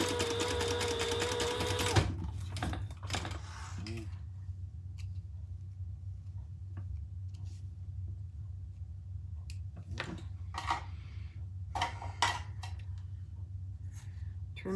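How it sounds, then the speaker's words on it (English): A sewing machine steadily running for about two seconds as it stitches pouch fabric pieces right sides together, followed by scattered clicks, handling and rustling of fabric close by. "Right sides together. And sew it together."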